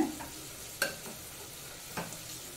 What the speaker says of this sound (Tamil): அதையும் அந்த மசாலாவோடையே 1 நிமிஷம் வதக்கி விட்டுக்கோங்க.